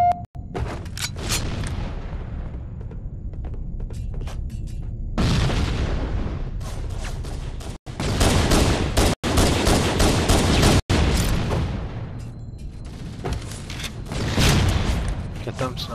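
Rocket launcher blasts and gunfire from the shooter game Halo 1 boom and rattle in loud clustered bursts, separated by quieter gaps, with sharp hits cutting through and players chatting over the action.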